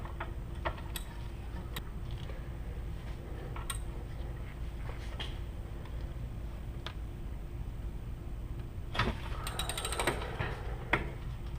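A ratchet clicks while loosening a 17 mm brake caliper bracket bolt on a Hyundai Sonata during a brake job, with sparse ratcheting clicks over steady background noise and a denser burst of clicks near the end.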